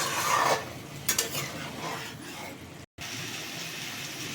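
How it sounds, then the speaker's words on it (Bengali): Chicken being stir-fried slowly on low heat, a faint steady sizzle beneath intermittent spatula scrapes and a couple of light clinks, with a brief dropout near the end. "আমি খুব অল্প হিটে এটাকে ভালোভাবে কষিয়ে নিচ্ছি।"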